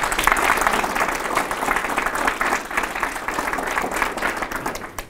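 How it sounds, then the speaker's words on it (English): Steady applause from a live audience at a local candidates' forum, dense, continuous clapping holding level for several seconds, then fading slightly at the end. "I would like a round of applause for all of our candidates"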